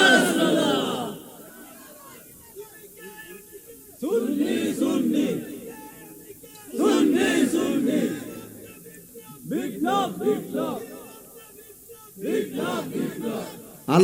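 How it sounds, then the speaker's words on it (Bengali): A large crowd at a religious sermon gathering in Munshiganj roars a slogan back in several loud, rhythmic bursts, with a voice leading between the chants over the loudspeakers. "একটা হাত তুলে স্লোগান দাও ইনশাআল্লাহ।"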